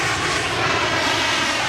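An aircraft that has just landed at an airport gives a loud, steady engine roar, close and continuous throughout.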